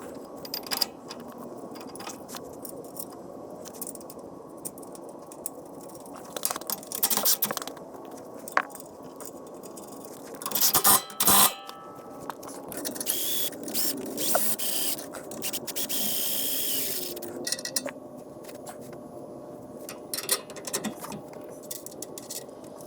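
Mounting hardware being bolted onto a Kodiak 4wd truck camper beneath the U-bolts, with intermittent ratcheting and metallic clicks, scrapes and clunks at close range, busier in a dense burst midway, no talking.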